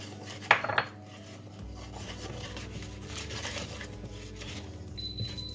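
Ground almonds stirred in a mixing bowl for a fruit and almond flan, a few quick clinks of utensil against the bowl at first, then a soft, steady rubbing scrape.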